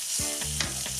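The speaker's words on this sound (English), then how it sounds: "You can push this down so it goes flat to the pan and gets cooked" Lamb chops sizzle in a frying pan with a close, steady crackle, broken by a few tonal scraping squeaks as the meat is pressed flat against the pan.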